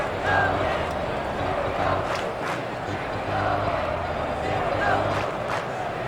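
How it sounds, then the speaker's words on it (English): Stadium crowd in MLB 2K7 on Xbox 360 during a Cardinals versus Yankees game, a steady roar of fans under continuous play-by-play commentary, with no distinct peaks of cheering. "you'll hear this crowd picking up their team"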